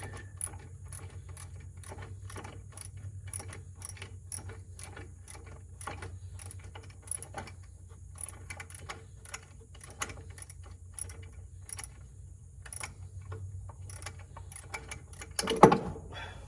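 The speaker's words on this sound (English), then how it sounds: "The ratchet will just keep working, we'll be good." Ratchet wrench loosening a bolt during cooling fan replacement on a Kioti DK5310 tractor, a long steady run of rapid clicks from close by, with a louder clatter near the end and no speech.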